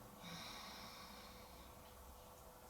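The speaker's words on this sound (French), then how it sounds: "J'inspire." A single slow inhalation through the nose during a yoga pigeon pose session, a soft, airy, drawn-out breath close to the microphone over faint background hiss.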